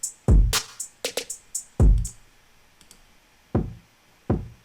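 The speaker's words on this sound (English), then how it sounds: "So that's the kick that's triggering all this." Kick drum sample triggered in Ableton and shaped with EQ filtering: a handful of deep, punchy thumps at uneven intervals, fairly loud and dry, with no voices over them.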